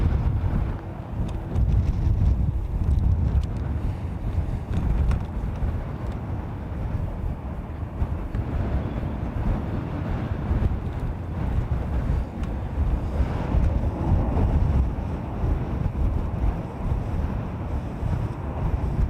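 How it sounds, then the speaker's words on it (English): Strong gusty wind buffets the microphone outdoors at an airport, a loud, continuous low rumble with rising and falling surges throughout, and no voices or other sounds clearly breaking through. "Wind is not making that easy, I'm sorry."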